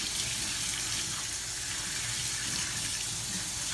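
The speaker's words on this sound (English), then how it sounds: "Make sure that you're using cold water and use your fingers to rinse through." Cold tap water runs in a steady, even stream over basmati rice and beans being rinsed by hand in a sink, a constant close splashing hiss with no voices.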